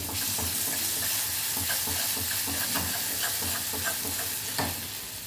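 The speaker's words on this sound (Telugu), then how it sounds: "ఇలా బ్రౌన్ కలర్ వచ్చేసిన తర్వాత అల్లం పేస్టు కొంచెం వేగాలి" Ginger paste frying in a pan for a fenugreek-leaf and moong dal curry, a steady close sizzle with faint stirring scrapes throughout, no voices.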